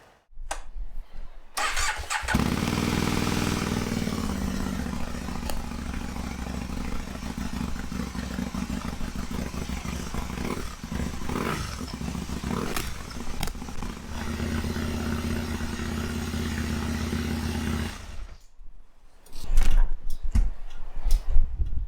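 A high-mileage Aprilia Caponord motorcycle engine starts and runs with a rough, throbbing, uneven idle, revving up and down before cutting out; a brief rumble follows at the end.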